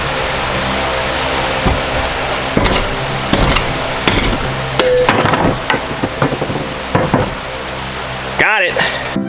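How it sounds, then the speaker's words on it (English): Several sharp metallic hammer blows strike the intake manifold of a Honda K-series engine being rebuilt in an AWD Honda Civic, irregular knocks with a metallic clink near the end, heard close alongside someone talking. "I guess I might have to use a hammer, maybe some persuasion"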